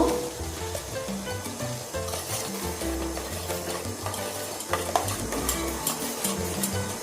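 Aloe vera gel soap mixture is stirred in a pot over a low gas flame, giving a steady scraping and soft bubbling texture with a few sharper knocks of the spoon against the pot.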